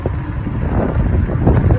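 Strong wind buffets the microphone while riding an Ecotric fat tire e-bike, producing a loud, continuous low rumble with gusty swells and no speech.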